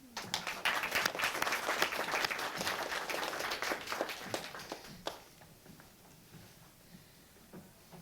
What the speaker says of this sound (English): So another big applause for our Dean's Award winners at the undergrad level